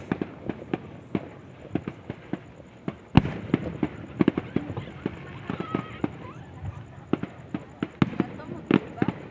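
Sharp cracks and pops from fireworks burst irregularly at a distance, with faint voices murmuring in the background.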